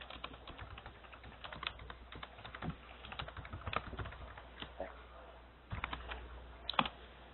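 Someone types a question on a computer keyboard, producing quick, irregular key clicks. Some keystrokes land louder than others, and the room is otherwise quiet.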